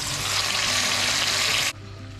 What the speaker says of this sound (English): keep frying it until the okra becomes very dry